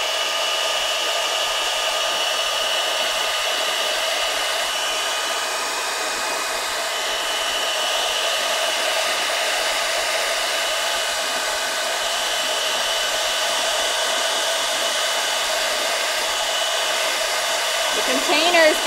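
A hairdryer blows on crayons in a container, running as a steady, continuous whir with a constant tone for nearly twenty seconds, with no talk over it.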